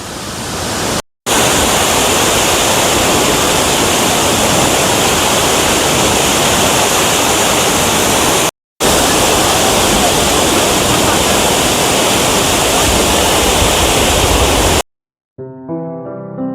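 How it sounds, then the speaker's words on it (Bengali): Hundru Falls near Ranchi roars as a loud, dense, continuous rush of falling water, briefly cut twice and ending with a short faint stretch of other sound. "আর এই হলো আপনার হুদ্রু ফলস।"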